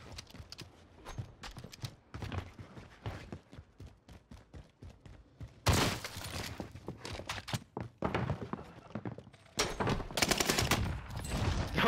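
Model 680 pump shotgun loaded with fire rounds blasting in the Warzone video game on Rebirth Island, a string of sharp, loud booming shots at irregular intervals with heavier bursts late on, no voices over them.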